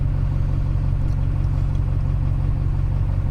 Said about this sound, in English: Alright, so the truck's running.